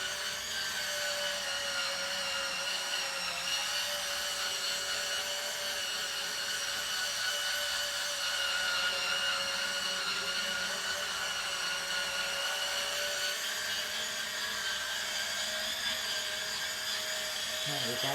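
A battery-powered electric scrubber brush runs continuously close up with a steady high whine while scrubbing grease off a surface, and a person talks faintly in the background.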